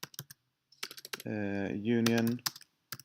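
Computer keyboard keys clatter in quick bursts while someone types an SQL injection query, with a short spoken word in the middle.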